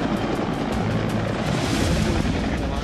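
Military helicopter hovering above a boat as MARCOS naval commandos descend by rope, a loud, steady rotor and engine roar filling the whole stretch with continuous thumping texture.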